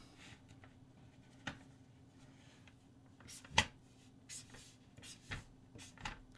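Pen or pencil scratches across paper while chord names are written down, making quiet intermittent strokes and taps separated by short pauses in a hushed room.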